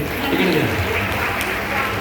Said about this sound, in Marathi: एकदा जोरदार टाळ्या माऊलीसाठी